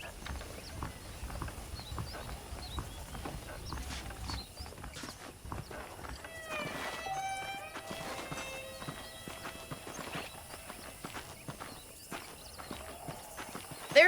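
In the video game Red Dead Redemption, horse hooves clip-clop in a steady rhythm with a brief whinny midway, over light ambient background noise.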